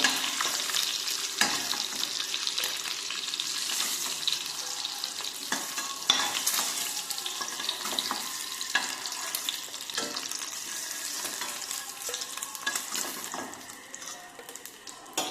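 Boiled eggs being stirred and fried in hot oil, giving a dense, steady sizzle and spatter with intermittent scraping from the spatula, close up and continuous with no talk.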